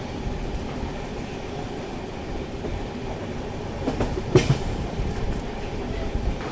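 Grand Trunk Express passenger train running on tracks after leaving Mancherial near the Godavari River crossing, a steady loud rumble of wheels and carriage with a few brief clanks partway through, no voices.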